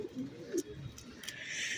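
Pigeons coo softly at close range, with a few low, rolling calls over a faint background hiss and no talk.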